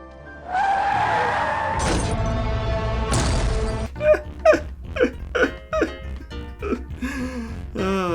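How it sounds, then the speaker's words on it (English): A movie scene of a car hitting a woman hard enough to throw her onto an oncoming car: shattering glass and crash bursts over a steady engine roar, then a string of sharp dramatic hits and squeals. "getting hit by a car so hard that she flies in the air and lands on a car going the opposite direction"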